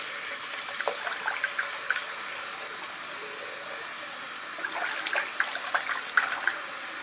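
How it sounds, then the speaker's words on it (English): Cold water running from a tap into a sink or tub, a steady, soft, even rush that runs throughout, with a few faint clinks and splashes. "I'm going to turn on the cold water so it kind of mixes a little"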